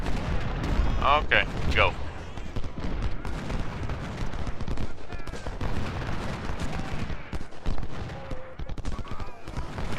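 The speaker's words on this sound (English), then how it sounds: "we're taking fire from that artillery" Artillery fire booms through a Civil War battle in Ultimate General: Civil War, with dense cannon and musket fusillades rumbling continuously while a voice talks over it.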